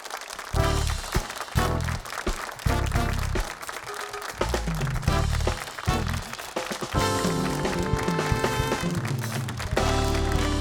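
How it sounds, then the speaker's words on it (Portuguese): Applause welcomes a guest onto the stage of a Portuguese interview show, a broad crowd clapping that runs alongside loud music with heavy, pulsing bass notes throughout. "O vosso grande aplauso para Abraham Levi Lima."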